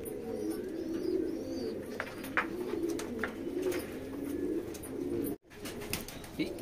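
Sarangpuri pigeons coo in a steady, low, warbling murmur that continues throughout, with a brief dropout near the end.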